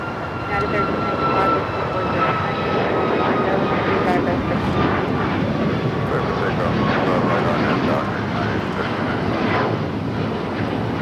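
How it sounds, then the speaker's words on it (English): UPS jet freighters taking off from Ontario airport, a steady broadband engine roar filling the scene throughout, with people talking over it. "a lot of those UPS aircraft start taking off"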